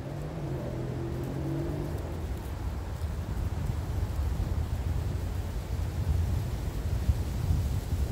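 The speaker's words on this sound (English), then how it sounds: "comes the wind again. Stupid wind." Wind gusting across the microphone on an outdoor hiking trail, a steady low roaring rumble that persists loudly throughout, with faint tonal hum early on and no speech.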